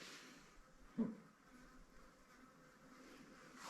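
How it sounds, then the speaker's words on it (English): Bees and large bush flies buzz faintly in the open bush of Grampians National Park, Australia, as a low steady drone with one slightly louder pass near the start. "There's a few bees buzzing around."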